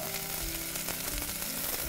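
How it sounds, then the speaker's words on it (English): Onions sizzle in a pan over a firewood cooking fire, a continuous dense crackle and hiss held at an even level throughout, with no voices. "you can hear the sizzling sound. That's the onions kind of cooking."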